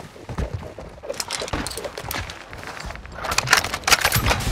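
Rapid bursts of automatic gunfire in the video game Call of Duty: Modern Warfare II, dense and loud volleys repeating throughout, heaviest near the end, with no talk over them.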